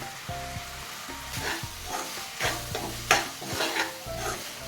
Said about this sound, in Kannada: ಚೆನ್ನಾಗಿ ಫ್ರೈ ಆದಮೇಲೆ ಎಲ್ಲ ತೆಂಗಿನಕಾಯಿ ತುರಿ ಹಾಕಿ ಕಲಿಸ್ಕೊಳ್ಳಿ.